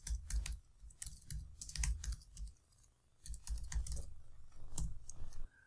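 Close, fairly quiet typing on a computer keyboard, irregular bursts of key clicks with brief gaps, alone without talk.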